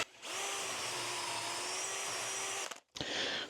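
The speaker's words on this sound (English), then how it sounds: "so let's just drill an hole" A power drill whines steadily at close range as it bores a hole through an old wooden spoil board, stopping briefly near the end before spinning up again.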